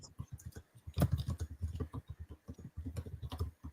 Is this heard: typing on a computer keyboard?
yes